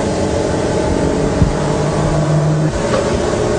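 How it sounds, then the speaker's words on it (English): A magnetic motor on an electric car running, a continuous close mechanical whir with a steady hum and a sustained tone that fades out partway, loud and alone. "the motor will start running"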